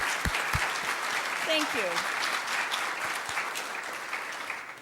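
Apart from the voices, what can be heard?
audience applause for first-time visitors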